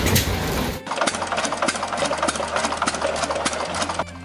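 Hit-and-miss stationary engine running steadily, a dense mechanical chatter of rapid regular clicks and knocks over a low hum, close and fairly loud after a brief louder burst at the start.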